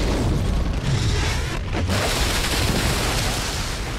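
Mines blowing up in the shooter game Call of Duty: Modern Warfare 3 during the Hunter Killer submarine mission, a loud, continuous booming roar of explosions filling the whole stretch with a brief dip midway.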